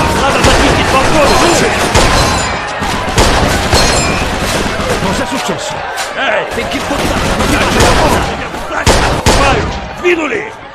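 Rapid gunfire bursts and booms crackle through a busy, loud mix in the Mafia II video game, with shouting voices and battle noise layered throughout.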